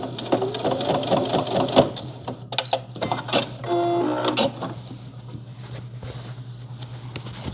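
An electric sewing machine stitches a 35x35 cm bag, running in fast rhythmic bursts with a steady motor hum, close and loud, pausing briefly between runs.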